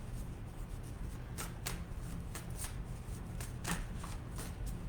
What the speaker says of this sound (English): I'm going to pull a card for you.